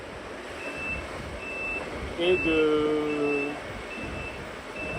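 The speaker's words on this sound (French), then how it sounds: "Ça, c'est la sonnerie du réveil." Alarm clock sounding aboard a racing sailboat during the Vegetable Globe solo round-the-world race, short high beeps repeating at a steady pace over constant onboard noise, with a brief louder tonal passage in the middle and a voice speaking.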